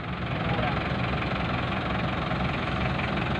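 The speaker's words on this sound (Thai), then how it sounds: "จะพาเล่นรถเล็กรถขุดจิ๋ว" A mini excavator's small engine idles at close range, a steady, even rumble with a faint knocking texture that holds at a constant level throughout.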